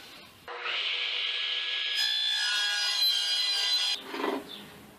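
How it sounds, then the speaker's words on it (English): A hand saw cutting through a piece of scrap wood for a wooden sandbox toy, one long continuous rasping stroke sequence that is close and fairly loud, ending with a few short scraping pulls and no voices. "And now we'll cut 2 more pieces out of the scrap"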